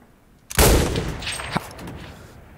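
Gunfire from the online shooter CRSED: F.O.A.D., one loud close shot with a booming tail followed by a second, sharper crack about a second later, then fading ambience.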